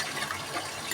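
Lukewarm water being poured in for making masala paste for Rajkot-style undhiyu, a steady soft splashing stream alone for a brief moment.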